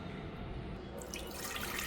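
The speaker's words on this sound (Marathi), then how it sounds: "कुकरमध्ये साधारण एवढं पाणी घ्यायचं." Water runs into a pressure cooker holding soaked toor dal, a faint, soft splashing pour that grows fuller about halfway through.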